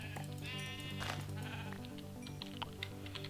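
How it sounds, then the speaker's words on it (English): Minecraft sheep bleat in a quick series of loud, wavering calls over steady game music, with a few soft clicks at the end. "Oh, or sheep. I already have sheep."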